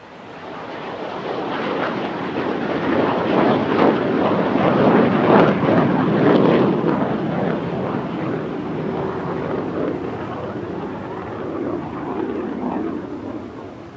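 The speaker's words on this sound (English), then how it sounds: "time that 4 MiG-17s have flown together at a North American airshow" Four MiG-17 jets flying an airshow formation routine roar overhead, the engine noise building into a loud sustained rumble and then slowly receding, with some wind buffeting on the microphone.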